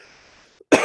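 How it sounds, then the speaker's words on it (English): A single sharp cough bursts out near the microphone after a soft, low background hum and a brief faint click, standing alone with no talk over it. "Cough's getting worse."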